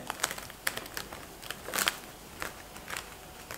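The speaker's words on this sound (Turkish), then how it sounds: "Bir streç film ile" Plastic cling film is crinkled over freshly made pastry cream in a small pot, giving scattered sharp crackles and rustles close by with no talking.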